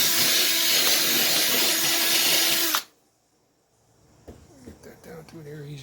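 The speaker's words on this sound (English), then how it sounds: "It's Homasote I'm drilling. This is Homasote roadbed." A power drill bores through Homasote fiberboard roadbed on a model railroad layout during signal system installation, a loud steady whine for about three seconds that cuts off abruptly, followed by quieter handling noises.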